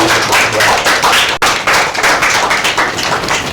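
A TV studio audience applauds during an entertainment show, loud dense clapping from many hands sustained throughout with a brief dip midway, no voices above it.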